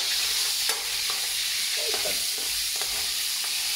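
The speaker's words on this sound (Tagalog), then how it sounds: "Nilagay ang ground pork." Ground pork frying and being stirred in a pan as filling for rellenong bangus, a steady close sizzle with scraping stir strokes and no talk.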